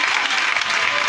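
A church congregation at Christ Impact in Côte d'Ivoire applauds and cheers for Jesus, a loud, continuous wash of clapping from a large crowd filling the whole moment.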